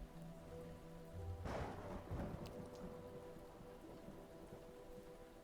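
A thunderstorm brings steady soft rain, and about a second and a half in a rumble of thunder swells and slowly fades, faint and distant.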